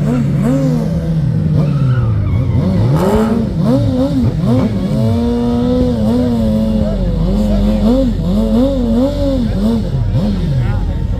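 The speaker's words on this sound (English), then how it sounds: "He put the power down, no spinning, just dragged it through the gears." A drag racing motorcycle accelerates hard down the strip, its engine revving up and shifting through the gears in repeated rising sweeps, loud and close, with a crowd and announcer talking underneath.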